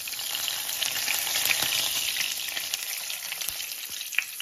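Cubes of feta coated in sesame seeds sizzle steadily in a hot pan, a dense, continuous crackle with small pops near the end, close and fairly loud, with no talking.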